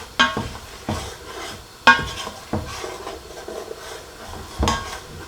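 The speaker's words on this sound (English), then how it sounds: "Just give that a good mix, letting the moisture reduce down, let the oil do all the cooking over there" Red kidney bean curry is stirred in a cooking pot, with a spoon scraping and knocking against the metal in several distinct strokes and a soft sizzle of oil between them.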